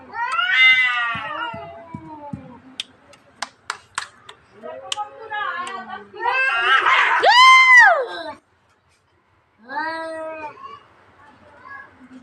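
Cats fight and caterwaul indoors, with long wavering yowls, rising howls and sharp hisses in bursts, loud and close, with a brief pause before another drawn-out yowl.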